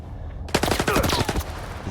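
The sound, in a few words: gunfire shooting at the player in S.T.A.L.K.E.R. 2 video game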